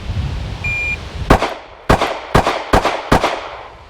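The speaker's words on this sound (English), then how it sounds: "He's just gonna shoot 5 shots from the beep into the high center chest." A handgun fires five rapid, sharp shots at a high center-chest target on a shooting range, following a single electronic timer beep. The shots are loud and close, spaced evenly over about two seconds.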